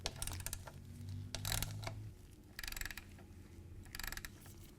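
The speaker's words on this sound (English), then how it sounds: "You're going to want your 5/8 inch socket and your socket wrench." A ratchet socket wrench with a 5/8 inch socket works on a Harley-Davidson motorcycle primary drain plug, giving several short bursts of close, crisp clicking separated by brief pauses over a low background hum.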